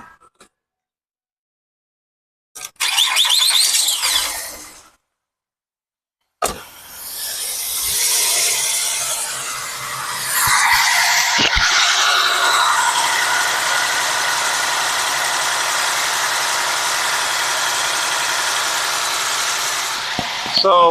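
A misfiring 2008 Ford Fusion V6 engine idles with a steady hum after a few starts and gaps, running unevenly with faint irregular stumbles.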